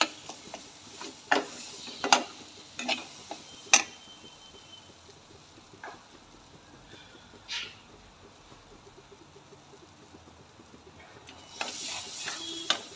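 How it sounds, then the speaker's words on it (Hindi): Masala frying in a pan for jackfruit curry gives a faint, steady sizzle under a series of sharp metallic taps and scrapes from stirring, close by but quiet, with a brief burst of louder sizzling near the end. "मसाला भून चुका है काफी हद तक अच्छे से।"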